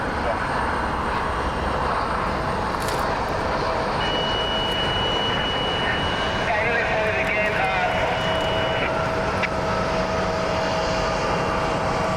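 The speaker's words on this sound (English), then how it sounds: "We got the Citation Mustang rolling here." A Cessna Citation Mustang business jet rolls at Columbus John Glenn International Airport, a steady loud jet engine roar with whining tones throughout, heard outdoors from nearby.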